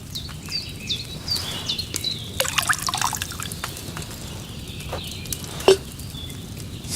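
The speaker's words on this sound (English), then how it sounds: "First, you have to pour the right base into the cauldron." Wine poured into a cauldron while brewing a potion in Kingdom Come: Deliverance II, heard as soft trickling and dripping liquid with small splashes, plus faint bird chirps in the background and no speech.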